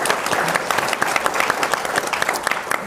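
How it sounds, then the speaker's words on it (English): An audience claps steadily for a medical college panelist at a Milwaukee health equity forum, dense applause filling the room for about three seconds. "If you can give him a round of applause."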